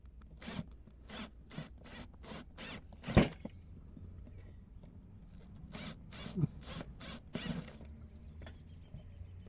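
A screw is driven by hand into wood without a pilot hole to fix a wall gutter bracket, heard as a series of short, close, rasping creaks in a slow uneven rhythm with brief pauses between turns.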